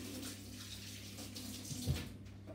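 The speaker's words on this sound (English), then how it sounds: "I'm just going to rinse my hands off." Hands are rinsed under a kitchen tap after coating a roast chicken, a faint steady stream of running water with a brief splashier moment near the end.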